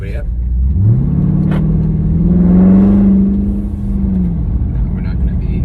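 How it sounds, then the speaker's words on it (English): A car drives through a college campus during a Cars and Coffee outing, its engine holding a steady mid-pitched drone that swells as it accelerates and then eases off, heard from inside with people speaking. "We'll drive through campus right now."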